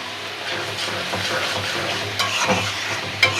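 Local shrimp frying with ginger and garlic in a pan, a loud, steady close-up sizzle with a few stirring scrapes toward the end and no voices.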